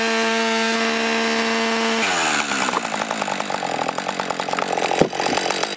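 A chainsaw fitted with a ripping chain mills a log into lumber, its engine holding a steady high whine at first, then dropping into a loud rough rasping cut with rapid chattering pulses and a sharp knock near the end.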